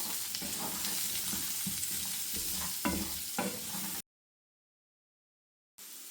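Garlic, onion and ground ginger stirred in a hot slow cooker for lamb curry, a continuous sizzle with scraping spoon strokes, cutting to silence for about two seconds before the frying sound returns.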